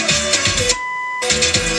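A single steady electronic beep from an original 1973-79 Ford truck AM/FM radio sounds briefly in a gap between loud, noisy music or static.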